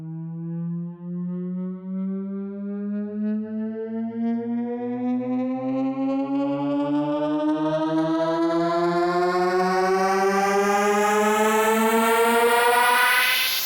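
A synth riser run through a modulated saturator and phaser-flanger effects climbs steadily in pitch for about fourteen seconds, its swirling, buzzy harmonics growing brighter and denser toward the end, with no voice present.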